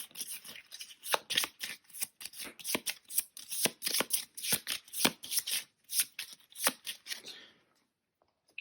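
Cards shuffled by hand while setting up the Robinson Crusoe board game, a quick series of crisp riffling bursts in an uneven rhythm, close and fairly quiet, then silence.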